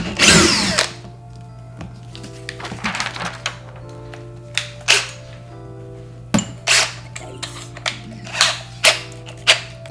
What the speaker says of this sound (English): Just like this, make your pilot hole.